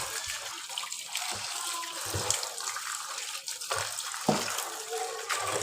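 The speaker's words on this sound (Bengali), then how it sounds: "চলো ওদিকে শাকটা ধুয়ে ফেলি।" Water running from a tap while leafy greens are washed in a kitchen, a steady splashing gush close by with small irregular splashes and shifts as the leaves are handled.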